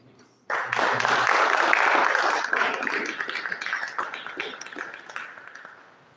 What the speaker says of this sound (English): Please, with a round of applause, welcome Honorable David.